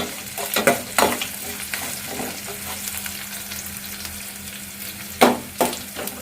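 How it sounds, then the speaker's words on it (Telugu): Red onions fry in a pan, a soft continuous sizzle broken by several sharp scraping bursts as they are stirred, loudest near the start and again toward the end. "ఈ ఎర్రగడ్డలు బాగా ఫ్రై అయిన వరకు వేయించాలి."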